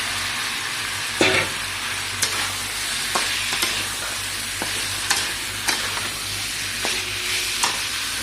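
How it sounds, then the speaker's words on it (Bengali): A spatula stirs fried pointed gourd and potato into a tomato and green chilli curry base in a pan, steady sizzling broken by repeated sharp scraping strokes about once a second, close and clear. "এটা আমি পটল ভাজা আলু ভাজাটা দিয়ে দিচ্ছি।"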